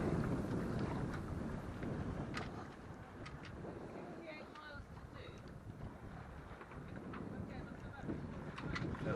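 A sailboat under sail beating into the wind on a hazy morning at sea, steady broadband wind and water rush buffeting the microphone with faint creaks and slaps throughout, no one talking.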